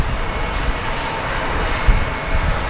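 Airplane engines roar at DFW Airport, a loud steady broadband rumble from a plane passing fairly close, with no talking.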